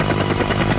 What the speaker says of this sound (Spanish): escuchó Pocoyo el sonido de un helicóptero